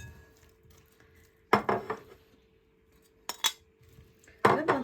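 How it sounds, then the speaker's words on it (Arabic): Metal utensils clatter against a dish while meat, onion and potato are mixed for a tajine, giving three short, close bursts of clinking and scraping separated by quiet pauses. "توا حاليا باش نبدا نخلط جميع المكونات"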